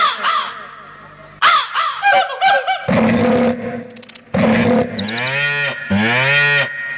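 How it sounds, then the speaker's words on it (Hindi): Several long, drawn-out cow moos, loud and close, interspersed with a few harsh crow caws in the middle. "भगवान कन्हैया की गैया जो थी वो रेक रही हैं"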